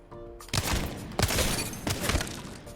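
Wingman pistol fired at a training dummy in Apex Legends, four loud sharp shots in a steady rhythm, each cracking out with a short ringing tail, close and alone without talk.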